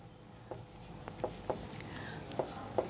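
Soft pen or pencil scratching on paper while a GST table is written, a few short strokes and taps spaced irregularly, close and quiet in a calm room.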